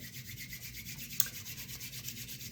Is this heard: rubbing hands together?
yes